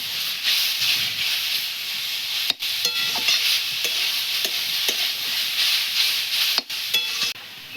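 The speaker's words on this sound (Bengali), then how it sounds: "ফুলকপিটা একটু ভেজে নেবো ভালো করে" Cauliflower sizzling loudly as it fries in a pan, stirred with repeated scraping strokes and sharp clinks of the utensil, no voices.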